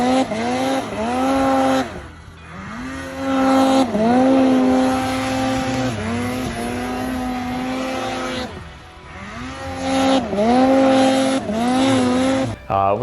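A 2023 Ski-Doo Summit Expert 850 Turbo R snowmobile with a turbocharged 850 engine revs repeatedly, its pitch climbing and falling in rising whines close by, several bursts in a row.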